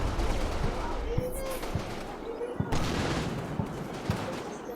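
Mortar rounds landing in a World War II strategy game, a rolling barrage of distant muffled thuds and booms with scattered sharper impacts over a continuous rumble of battle noise.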